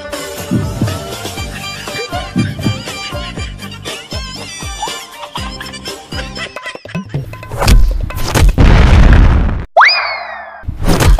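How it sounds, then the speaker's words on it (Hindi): Diwali firecracker bomb going off with loud, rough blasts near the end, after a stretch of music and rhythmic knocks, followed by a cartoonish springy boing effect. "अभी बम उड़ा के दिखाते हैं"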